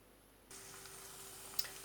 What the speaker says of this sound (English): As you're frying them